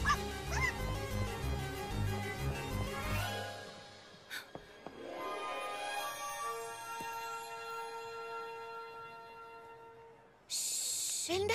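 A cartoon puppy yips and whimpers, high tonal cries layered over music, then fades into a lingering whine. A sudden loud burst of noise follows near the end.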